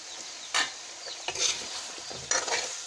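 Potato pieces fry in thick mutton korma masala, a spoon scraping and stirring through them in three distinct bursts over a low, steady sizzle, close and fairly quiet.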